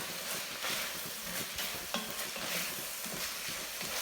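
Spoon stirring dry spices and Italian sausage in a hot pan, steady close scraping and sizzling frying noise throughout, with no voices.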